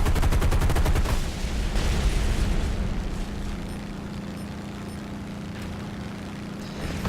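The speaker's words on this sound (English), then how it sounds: "Starting the rocket strikes, trying to take out the light tanks." Rocket strikes and machine gun fire from a flight combat video game aimed at light tanks, heard as heavy rumbling blasts and rapid firing that fade into a steady low drone.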